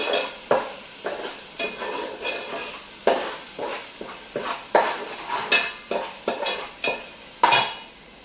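Chicken curry with garam masala fries in a pan with a soft sizzle, under repeated close scrapes and clinks of a spoon stirring against the metal in an uneven rhythm.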